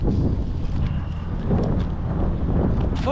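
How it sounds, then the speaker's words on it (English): Wind buffeting a microphone outdoors during a hunt for invasive birds, a steady low rumbling roar with gusty swells that lasts the whole moment. "that wind don't feel good"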